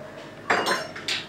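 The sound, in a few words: whisking eggs in a plate with a fork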